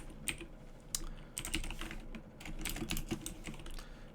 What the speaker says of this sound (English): I'll be typing that out